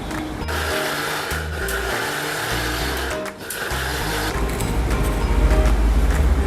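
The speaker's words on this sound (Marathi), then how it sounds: "आता हे मिक्सरमध्ये जाडसर वाटून घ्यायचं आहे" A mixer grinder coarsely grinds tomato chutney with garlic, whirring loudly in pulsing bursts, its motor droning with a brief dip before growing stronger and rougher toward the end.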